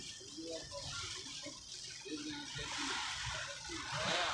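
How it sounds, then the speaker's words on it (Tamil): Heavy rain during a hilly road ride drums and hisses on a vehicle, a continuous watery wash with sloshing bursts, steady and close, with a voice faintly under it. "பாருங்கள் எவ்வளோ மழை வந்துட்டுருக்கு பாருங்கள்."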